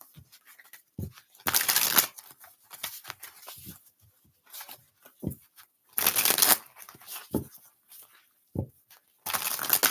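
Cards are shuffled in quick riffling bursts, several times over, with softer handling taps and rustles between, close up and with no talking.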